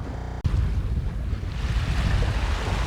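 A sailboat runs downwind under headsail alone. After a short cut-in, waves wash and swirl against the hull beneath steady wind rumble on the microphone, continuous and close, with no voices.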